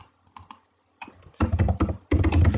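Keys on a computer keyboard being typed in short bursts, a few light taps followed by two dense, loud clusters of rapid keystrokes close to the microphone, no voices.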